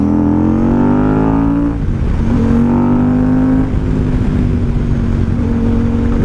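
A 2012 KTM 990 SMT supermoto's V-twin engine roars loudly up close while riding, revving through rising pitches with a shift break and steady throttle, no talk.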